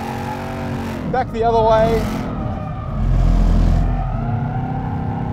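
A 2021 RTR Ford Mustang drifts on a track, its engine droning loud and steady, swelling as the throttle opens, while someone talks over it.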